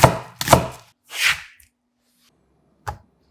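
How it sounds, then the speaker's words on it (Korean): A knife cuts a quarter onion into thick strips on a board: four distinct, close chopping strokes, three in quick succession and a last one after a short pause, with silence between. "양파 4분의 1개도 살짝 굵게 채 썰어 준비합니다"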